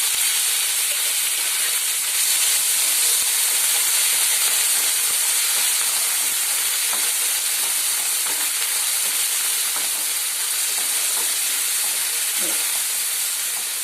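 Moringa leaves frying in tempered oil give a steady, loud, bright sizzle and hiss that runs without a break, with faint stirring clinks now and then.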